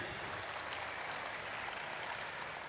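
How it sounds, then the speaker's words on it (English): Crowd applause at a woodchopping competition, steady distant clapping throughout, fairly faint and even. "A big round of applause for the Kiwis."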